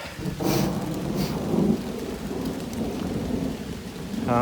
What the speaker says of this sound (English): we've gotten into a thunderstorm. So a little thunder, lightning, rain